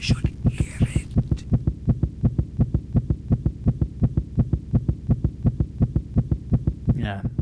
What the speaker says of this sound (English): His heart will burst. Surely it will burst.